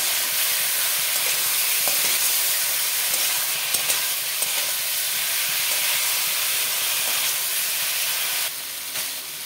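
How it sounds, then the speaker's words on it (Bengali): Fried cauliflower and potato cook with spices and a little water in a pan, giving a steady, even sizzle and hiss throughout with faint stirring clicks, no talking. "এবার দেবো ভেজে রাখা ফুলকপি আলুটা, অল্প জল দেব, ভালো করে মশলার সাথে"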